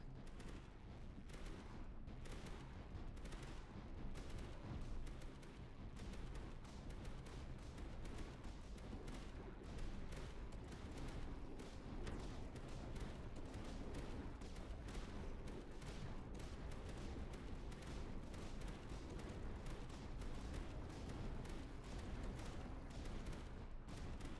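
Continuous dense barrage of booming howitzer artillery blasts in the video game Tower Dominion, heavy and loud throughout, with layered rumbling explosions and no pauses.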